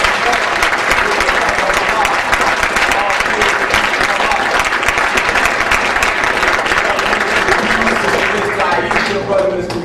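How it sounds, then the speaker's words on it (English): A mosque congregation in Phoenix, Arizona gives ministers a loud, unbroken round of applause that fills the whole stretch with dense, even clapping. "Let's give them another warm round of applause."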